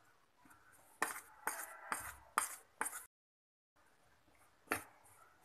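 Bajji batter with salt and cooking soda is stirred in a bowl, giving a series of quiet, rhythmic scraping and tapping strokes, five in quick succession, a short silent gap, then a few more.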